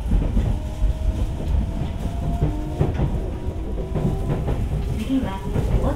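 Toyo Rapid Railway 2000 series commuter train running underground between Nakano and Otemachi, recorded binaurally from inside the car: a steady loud rumble of wheels on rail with rhythmic clickety-clack joints and faint squeals throughout.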